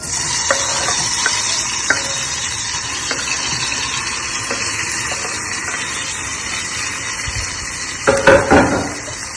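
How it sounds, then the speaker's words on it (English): Tomatoes and onions fry in oil in a small pot for Cameroonian cooking, producing a loud, continuous sizzle broken by occasional utensil taps and a louder stirring clatter near the end. "I now have oil in this little pot. I want to add, again, tomatoes and onions"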